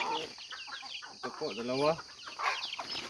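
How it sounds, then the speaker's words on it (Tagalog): Small chicks peep in high chirps while a few chicken clucks mix in, close by, as newly moved birds are released into their new coop; someone talks over them throughout. "Ito na po yung mga sisiw nila."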